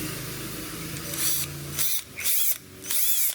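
Power drill bores through a plastic case while fitting a GIVI stop light to a Yamaha XMAX 300. Loud continuous whir with a few short bursts and pauses, no talk.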